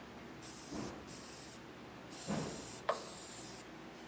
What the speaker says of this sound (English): I'm going to spray it with a little bit of lube